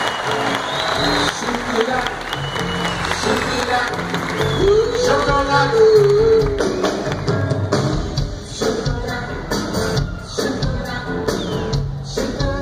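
A theatre audience at a church service applauds for Andressa Luca, with loud continuous clapping and crowd noise mixed with music and a voice speaking over it.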